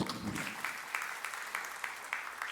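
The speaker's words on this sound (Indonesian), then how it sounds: "Tepuk tangan yang meriah untuk kemuliaan." A church congregation applauds during a sermon, a faint, uneven patter of clapping with a few sharper claps standing out, heard at a distance.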